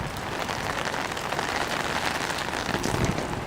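Rain falls steadily on surfaces around a city harbour with puddles, a dense, even hiss of close pattering drops that holds the same level throughout with no voices.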